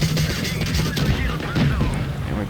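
Tank cannon fire bouncing off Panzer III armor in World of Tanks Blitz, a loud, dense, continuous battle roar with booms and gunfire layered together throughout.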